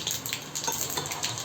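Ginger-garlic paste sizzles in hot oil as a tempering for kadhi, a faint, steady hiss and crackle close by with no talking.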